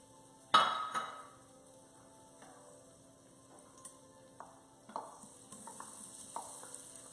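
Chopped garlic cloves dropped into the bottom of a pan, a soft sizzle beginning with a sharp clatter, followed by scattered stirring clicks over a faint steady hum.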